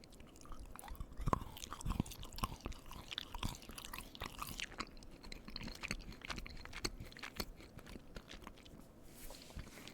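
Chilled Reese's mini chocolate peanut butter candies are chewed close up, soft crunching and mouth sounds repeating irregularly at low volume with no talk.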